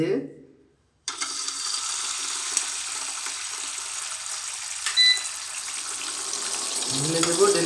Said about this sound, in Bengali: সো আমরা এই তেলটা সহ এখন ফ্রাই প্যানটার মধ্যে ঢেলে দেব।